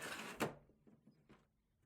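An HP Smart Tank 5103 printer's paper tray is pulled open, giving one sharp plastic clack followed by a few softer rattling knocks as it settles, close and fairly quiet.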